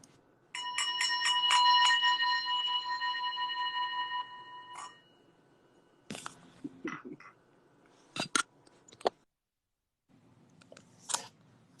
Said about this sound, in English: I'm gonna gong this out.